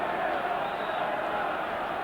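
A capacity football crowd of just under 14,000 at Somerset Park for a Scottish Cup tie between Ayr United and Rangers makes a steady, distant roar and hubbub with no distinct peaks.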